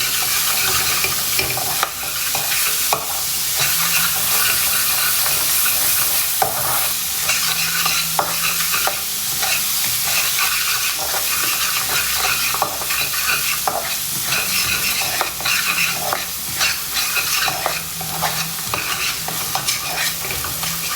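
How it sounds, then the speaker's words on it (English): Ginger garlic paste with dry masala powders fries for egg curry, with a loud, continuous close-up sizzle and occasional scraping stirs throughout, no voices. "Okay, now I'm going to fry it."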